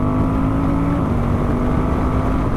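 A 2023 Suzuki V-Strom 1050 DE V-twin motorcycle under acceleration, its engine droning loud and close with a steady rising pitch, heavy wind noise buffeting the rider's microphone throughout.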